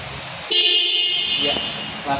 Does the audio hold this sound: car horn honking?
yes